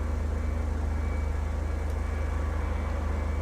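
Aircraft engine noise in the game Flight Simulator 2002, heard on the ground at La Crosse airport in Wisconsin: a steady, dense, continuous drone with a low rhythmic throb, constant in level throughout.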